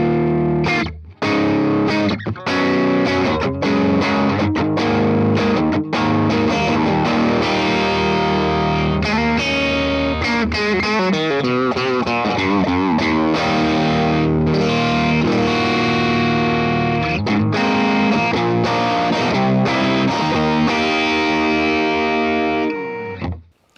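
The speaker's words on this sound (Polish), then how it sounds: "Piękny ton, bardzo plastyczny i kombinacja humbuckerów i pojawi się bardzo ładna twangowa góra." An electric guitar with humbucker pickups played through a Morgan AC20 amplifier, giving a loud, continuous run of bright, driven chords and notes with a slightly distorted, shimmering tone.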